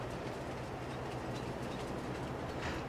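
Train rumbling past in Farming Simulator 22, a steady dense roar of rolling wagons with faint clicking, continuous and fairly loud throughout.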